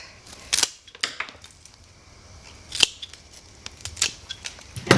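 Garden scissors snip through cut flower stems to trim them to one length, several sharp, close clicks and snips spaced irregularly with brief handling noises between them, and no talk.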